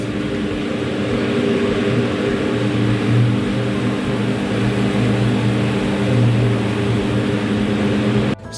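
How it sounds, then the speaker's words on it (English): A Hisense 8kg top-loading washing machine spinning, a steady loud hum with a low droning tone that holds for about eight seconds before cutting off abruptly. "It has started spinning. So I just need it to spin for 1 to 2 minutes"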